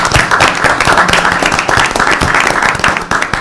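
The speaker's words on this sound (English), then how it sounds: "Let's give a round of applause for our Huskies." A city council meeting audience applauds the Northern Illinois University Huskies football team, a dense, steady patter of clapping hands filling the room for a few seconds without talk.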